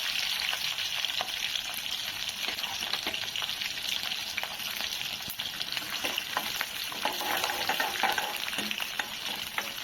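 Green chillies and peanuts sizzle and fry in hot oil for poha, a steady dense crackle that runs continuously at close range, with occasional sharper pops and no talking.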